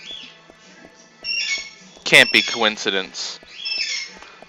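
Birds outside squawk in sharp, harsh bursts, loud and close, mixed with someone speaking briefly over them.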